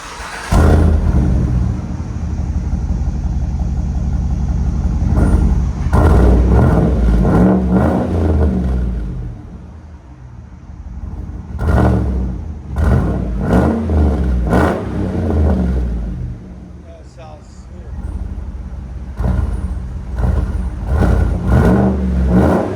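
A 2017 GMC Yukon Denali XL with a 6.2L V8 and Dynomax Race Bullet exhaust revs repeatedly, loud and close, deep rumbling idle broken by sharp throttle blips and sustained climbs.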